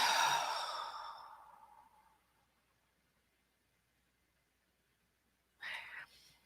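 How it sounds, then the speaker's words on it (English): One long, deep exhale of breath sounds close and soft, fading over about two seconds, then quiet, then the start of another breath. "And take another deep breath."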